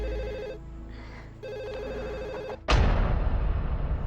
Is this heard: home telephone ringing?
yes